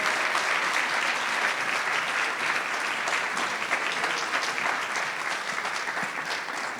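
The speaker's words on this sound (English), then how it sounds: "Give him a warm round of applause." Dense, steady applause from a conference audience of community leaders welcoming a speaker to the stage, sustained and fairly close for the whole stretch with no talk over it.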